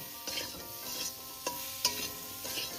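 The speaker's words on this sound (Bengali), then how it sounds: "দেখো আলু আর পেঁপে যতটা ভাজার আমি কিন্তু ভেজে নিয়েছি" Potato and papaya fry in a pan while being stirred: a soft, steady sizzle broken by several scraping stirs at irregular intervals, with no talk.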